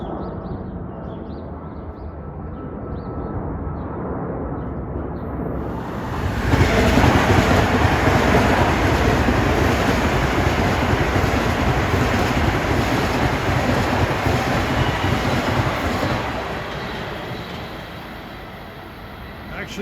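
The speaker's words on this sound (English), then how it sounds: "Train whizzing by was 2063." A Long Island Rail Road Main Line train, number 2063 on a Ronkonkoma run, whizzes past close by, its roar surging in after a quieter stretch, holding loud for several seconds, then easing as it moves off.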